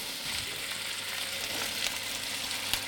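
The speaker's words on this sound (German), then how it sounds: "der Geruch, wenn Butter in der Pfanne zerläuft" Butter melting in a frying pan sends up a steady, close sizzle and crackle that holds even for the whole stretch, with a few sharper pops near the end.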